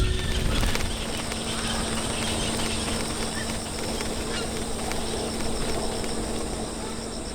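A breeding colony of some 8,000 egrets and herons of seven species nesting in a dense bamboo grove, a continuous loud wash of overlapping calls and chatter with a steady drone, heard from within the colony.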